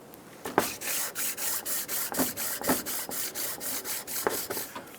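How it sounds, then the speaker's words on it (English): A sanding block scrubs back and forth across a 2003-2008 Honda Pilot valve cover spacer in steady, rhythmic rasping strokes, close and even, about three strokes per second with no talk. "we're going to clean both sides using our sanding block"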